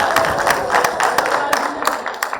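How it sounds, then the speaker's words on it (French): A crowd at a community film club screening claps in a quick burst of scattered, sharp hand claps, close and fairly loud, with murmuring voices mixed in. "Applaudissez pour lui."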